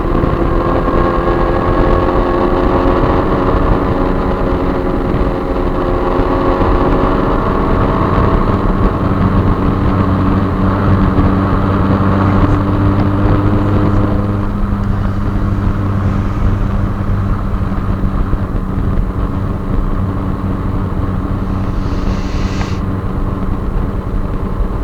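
Motorcycle ridden from Buenos Aires to Tigre drones loudly and continuously, its engine note shifting in pitch as it accelerates and eases off, with steady road and wind rumble throughout.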